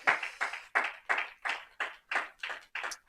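A congregation at a church service claps in a steady, even rhythm, about nine sharp claps in three seconds, close and moderately loud with no voices over it.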